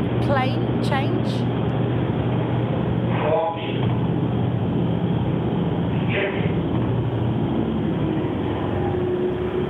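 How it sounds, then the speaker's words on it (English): Loud, continuous droning roar inside an aircraft cabin during a parabolic flight, with a steady low hum and broadband engine noise that dips briefly as the plane shifts phase, with brief faint voices. "If you listen carefully, you'll hear the plane change."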